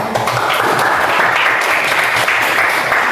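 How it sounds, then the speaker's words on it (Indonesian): Students in a classroom applaud together after group presentations, a dense, steady round of clapping that lasts throughout. "Coba tepuk tangan untuk kita semuanya."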